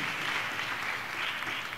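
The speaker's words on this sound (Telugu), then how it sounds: "దేవునికి చప్పట్లు కొడుతూ స్తోత్రాలు చెప్దాం." A church congregation claps their hands in praise during a sermon: a dense, steady burst of many hands clapping together, close and fairly loud, with no other sound standing out.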